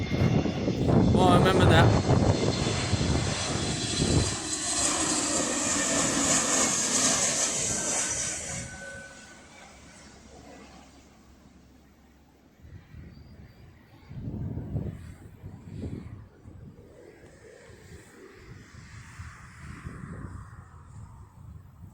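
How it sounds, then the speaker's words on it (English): A Jet2 Airbus A321neo landing at Birmingham Airport roars loudly overhead, then fades over several seconds into a distant rumble, while people talk nearby in the open air. "Okay, the plane, I thought it was a Neo. Maybe it might have been an Airbus A321 Neo."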